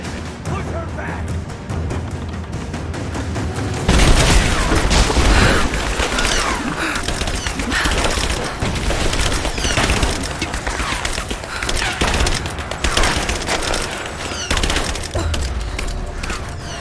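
Heavy sustained gunfire in Rise of the Tomb Raider, loud continuous bursts and shots that intensify sharply around four seconds in and keep going, with mechanical clatter and shouted voices mixed in.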